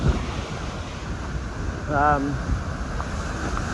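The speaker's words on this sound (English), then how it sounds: "You can hear the power of the water here." Steady rushing water roars over a reservoir dam in Wales as a broad, constant wash of noise, with a brief whistle-like tone cutting through midway.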